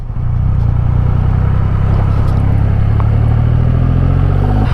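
A Triumph Rocket 3 R motorcycle with a quick shifter is ridden at steady speed. Its engine gives a continuous, loud, close drone with low mechanical clatter and wind, and nobody speaks.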